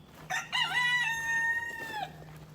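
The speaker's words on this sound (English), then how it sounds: "That's Blanco the chicken." A pet chicken named Blanco, kept alongside tegus and redfoot tortoises, lets out one drawn-out, wavering crow-like call lasting about two seconds, loud and close, with no talk.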